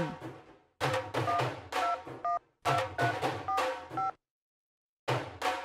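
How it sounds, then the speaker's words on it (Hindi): A telephone being dialed in two bursts of rapid keypad tones over a steady line hum, the second run of beeps followed by a brief silence and then more tones. "मुलाउणा उस एजेंट नूं फोन।"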